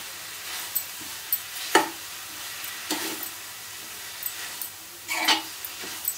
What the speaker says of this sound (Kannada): ಇನ್ನೊಂದು 5-6 ನಿಮಿಷ ಫ್ರೈ ಮಾಡ್ಕೊಳ್ಳೋಣ ಚೆನ್ನಾಗಿ. ನೋಡಿ, ತುಪ್ಪದಲ್ಲೇ ಫ್ರೈ ಆದ್ಮೇಲೆ